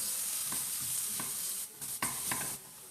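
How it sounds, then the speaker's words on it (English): Onion browning gently in a Dutch oven, a continuous soft sizzle broken by a few stirring scrapes and clinks, fairly quiet and without voices. "Okay, so the onion is being gently browned."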